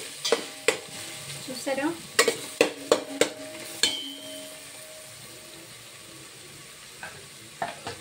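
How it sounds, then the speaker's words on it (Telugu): Vegetables for a carrot coconut milk rice frying in a pan, with sharp intermittent clinks and scrapes of a stirring utensil over a soft sizzle; a voice speaks briefly. "ఇది కూడా వేగుతున్నాయి బాగా"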